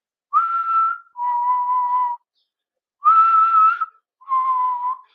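A person imitates a sasquatch whistle call, whistling four clear tones in two pairs, each pair stepping from a higher note down to a lower one, close and alone.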